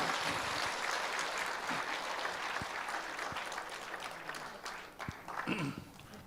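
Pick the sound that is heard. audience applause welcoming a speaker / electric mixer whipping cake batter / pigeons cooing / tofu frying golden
audience applause welcoming a speaker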